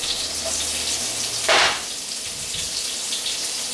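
Garlic and onions hit hot oil in a wok with a short, loud burst of sizzle, then settle into a steady frying hiss that continues alone.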